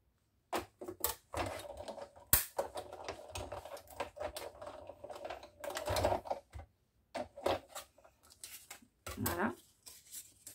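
Scissors cutting card paper for an envelope embellishment, a series of short crisp snips in separate bursts, close and moderately loud, with someone speaking French between cuts.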